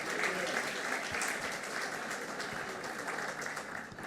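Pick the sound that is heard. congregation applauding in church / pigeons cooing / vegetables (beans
congregation applauding in church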